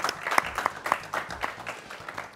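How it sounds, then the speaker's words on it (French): Applause from a small studio audience on a French game show, scattered individual claps near and distinct at first, then loosening into lighter, thinning clapping. "On peut l'applaudir, hein."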